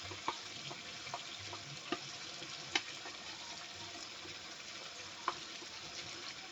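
Coconut and cumin paste simmering in a pan gives a faint, steady low bubbling hiss with a few soft isolated pops and clicks scattered throughout, with no one talking.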